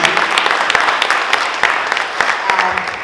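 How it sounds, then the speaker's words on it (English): A crowd applauding, brisk scattered claps blending into a steady patter for a few seconds. "Can you please give a great round of applause?"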